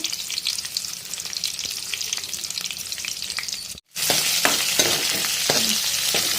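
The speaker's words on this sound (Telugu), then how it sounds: "చూడండి లైట్గా కొంచెమే ఫ్రై చేసుకోవాలా మన ఉల్లిపాయ ముక్కలు" Onion pieces frying lightly in oil with mustard seeds, dried red chillies, chana dal, urad dal and cumin, a dense close sizzle with scattered stirring clicks, briefly cut to silence before resuming.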